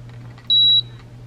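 A digital 1800-watt steam iron gives a single clear electronic beep lasting about a third of a second over a low, steady hum, with no talking.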